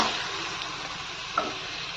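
Potatoes coated in ground spice paste fry in hot oil, giving a steady close sizzle with a brief stir or clink partway through and no talk.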